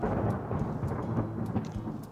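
Steady heavy rain with a low rumble of thunder rolling underneath, dense and continuous with occasional sharper drops, no voices.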